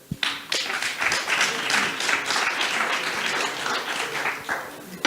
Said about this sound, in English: It was a pleasure to have you here, and the applause is yours.